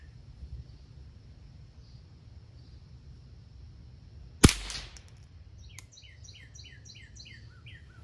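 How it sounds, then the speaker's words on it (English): A rifle firing CCI Quiet-22 ammunition at a 42-yard target gives one sharp, fairly loud crack, a softer second click shortly after, and bird chirps in the background. "That was 5 shots at 42 yards."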